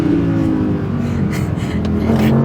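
An Audi R8 V10 Performance in dynamic mode roars close and loud with a dense, steady engine rumble. A strong low drone carries right through, with no clear rise or fall in revs.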